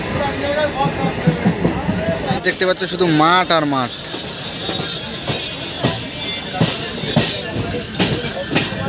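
A local passenger train rolls on its rails on the approach to Murshidabad past open fields, its rumble and wheel clatter running steadily underneath someone talking close by.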